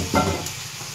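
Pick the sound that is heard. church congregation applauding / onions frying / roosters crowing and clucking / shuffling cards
onions frying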